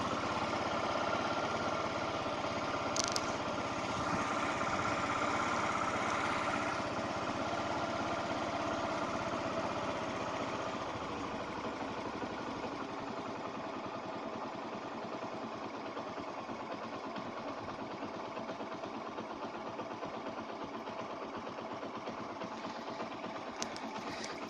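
A Yamaha SS125 motorcycle engine idles at about 1000 rpm, a steady, even mechanical drone that holds at the same level from start to end with no one speaking.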